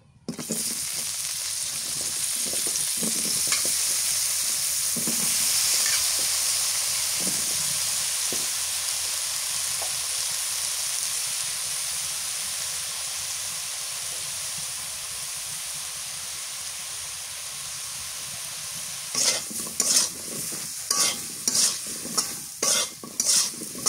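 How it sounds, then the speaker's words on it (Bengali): Eggplant frying in hot oil while being stirred in a pan: a constant bright sizzle and hiss, with scattered scraping clicks of the spoon that turn into quick repeated clatters near the end. "বেগুনটা হালকা করে ভাজা নিলাম, নামাই নি।"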